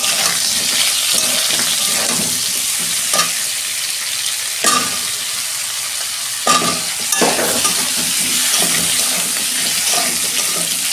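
Potatoes fry in a pan of hot oil with a loud, continuous hiss, and a few scattered utensil knocks and scrapes punctuate it. No voices are heard.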